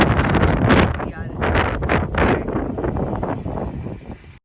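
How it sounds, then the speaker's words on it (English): Gusty wind rumbles against the microphone in loud bursts on a San Francisco city street, mixed with what sounds like voices, fading out at the end. "It's quite windy in the city."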